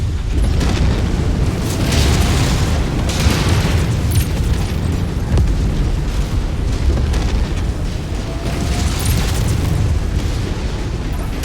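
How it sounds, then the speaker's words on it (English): An incoming missile explodes in the Mechwarrior 5 video game amid continuous heavy rumbling booms and blasts, loud and dense throughout with no clear pauses. "Incoming missile."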